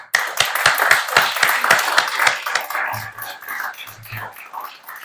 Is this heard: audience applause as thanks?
yes